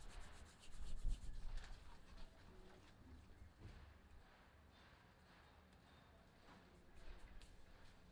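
Dried fenugreek leaves (kasuri methi) rubbed between the palms, a soft close dry rustling and crumbling that is strongest in the first two seconds and returns briefly near the end, with quiet room noise between.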